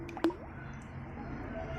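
A handmade fishing popper lure is dropped into water with a single short plop and splash, followed by faint lapping and dripping in a quiet outdoor spot.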